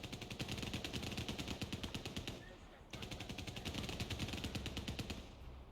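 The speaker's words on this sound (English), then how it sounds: "I can hear shooting." Steady automatic gunfire in the video game CrossfireX runs in a fast, even rhythm, broken by one brief pause before the long volley resumes.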